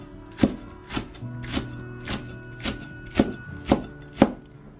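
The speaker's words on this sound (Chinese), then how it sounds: "再准备一段大葱，把大葱我们给它切成葱花" Knife chopping a length of Chinese green onion into small pieces on a cutting board, eight distinct close thunks in a steady, slightly uneven rhythm with no talking.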